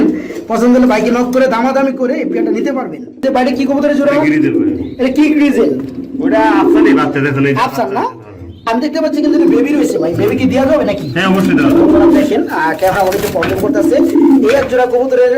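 A pair of pigeons, a male and a female offered for sale, coo continuously in low throaty rolling calls close by, while someone talks over them almost the whole time.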